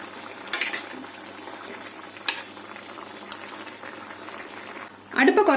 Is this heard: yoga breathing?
no